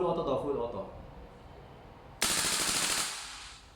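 VFC Knights Armament SR-16 E3 MOD2 CQB airsoft gas blowback rifle firing a full-auto burst, a sudden loud rapid rattle of shots lasting about a second after someone talks, then trailing off.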